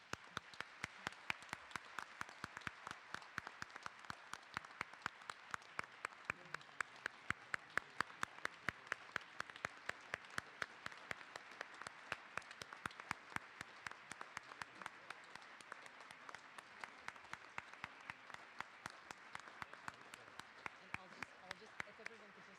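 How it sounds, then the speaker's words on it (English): Faint, sparse applause from an audience for presenters and special guests at a public education event, individual claps ticking at a fairly even pace for over twenty seconds, quiet and distant. "Would you please join me in giving a very big round of applause to our presenters and special guests here today?"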